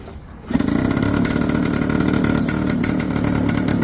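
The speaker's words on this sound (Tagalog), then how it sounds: "magpapainit muna tayo ng makina" A 1979 motorcycle engine starts up and warms up, settling into a steady, loud, close idle with a rhythmic, chugging pulse.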